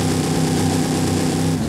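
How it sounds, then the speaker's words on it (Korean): A 6700cc V8 turbo diesel engine in a driving video game runs loud and steady, a thick continuous drone that holds without pause and with no talk over it. "6700cc V8 터보 디젤"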